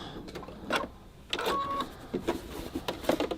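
A sewing machine stitches the pocket of a bag lining in short, close, whirring bursts with brief pauses between runs, and no speech over it.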